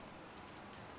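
Steady rain hisses in a Batman video game crime-scene setting, a continuous dense wash of droplets at low level with no voices over it.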